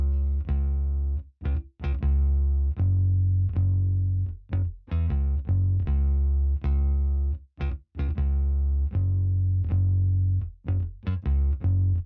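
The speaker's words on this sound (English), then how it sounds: "I just wanted to add like a Rickenbacker bass at the bottom root notes just to follow that" A Rickenbacker-style bass plays low root notes in a bouncy rhythmic pattern within a beat, sustained tones with short gaps between phrases, loud and upfront with no voices.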